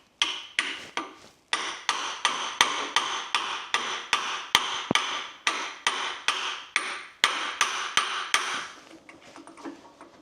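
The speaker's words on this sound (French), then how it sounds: "il faut un vrai marteau là" Steady series of hard hammer blows on metal, about two strikes per second with sharp ringing impacts, close and loud, running with no talk.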